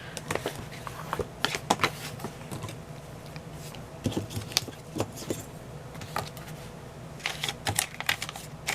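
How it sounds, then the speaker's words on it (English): A craft knife trimming excess paper from a journal page, heard as close, irregular scratchy cuts and small clicks, with paper rustling between them and no talking. "So now let's just cut this excess. Maybe I'll use my craft knife."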